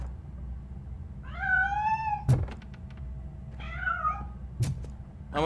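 Cat meowing in the RoboCop: Rogue City video game, two drawn-out rising-and-falling meows separated by sharp thunks, close and clear over a low ambient hum.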